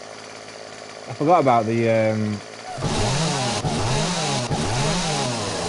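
A chainsaw revs and runs loudly and steadily in the video game 7 Days to Die, with rising and falling engine pitch; a player speaks briefly over it just before it starts.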